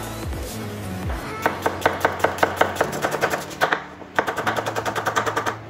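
A knife chops onion and garlic on a board in quick rhythmic bursts of sharp taps, close and crisp, with a short pause partway before a faster run of chops resumes.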